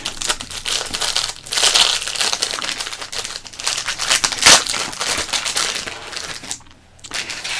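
A 1987 Topps baseball card pack wrapper being opened, with close, crisp crinkling and crackling of foil-like paper in uneven bursts, one sharper tear near the middle and a brief pause near the end.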